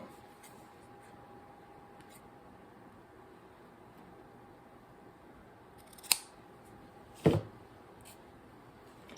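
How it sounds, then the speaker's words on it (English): Two distinct snips of scissors cutting something off, the second louder, sound over a quiet steady hum. "So I'm going to cut the rest of it off."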